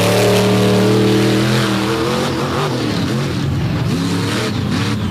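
Loud, close monster truck engine revving hard as it dirt tracks around a corner at a Bloomsburg arena show, with a sustained roar that rises and falls with throttle before trailing off.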